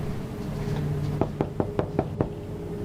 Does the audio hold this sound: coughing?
no